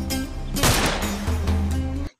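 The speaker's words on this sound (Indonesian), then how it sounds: "Tiba-tiba terdengar tembakan." A gunshot bursts out, a sharp loud blast followed by a heavy rumbling tail and reverberant noise lasting about two seconds before cutting off abruptly.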